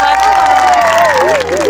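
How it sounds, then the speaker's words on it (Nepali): Audience at a dance audition contest breaking into loud applause and cheering for a contestant, a dense sustained crowd roar with a sung or voiced tone riding over it. "उहाँको लागि एकपटक जोरदार ताली"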